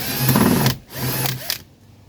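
A power screwdriver backs screws out of a 1984 Mercedes 300SD door panel, with close, loud whirring bursts broken by short gaps.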